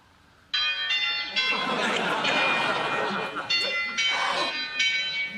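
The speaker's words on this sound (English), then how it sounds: "Do you hear the church bells?" Church bells ring steadily, loud and close, in overlapping peals that mingle with voices chattering underneath.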